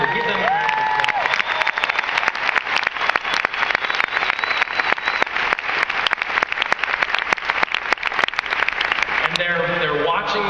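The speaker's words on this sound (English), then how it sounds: "Really, give them a round of applause." Loud, sustained applause from a company meeting audience cheering their team, dense claps filling about ten seconds with a few voices and cheers mixed in.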